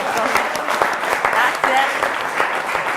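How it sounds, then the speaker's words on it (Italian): Dense studio audience applause on a quiz show, a continuous patter of many hands with voices talking over it throughout. "Facciamo un applauso."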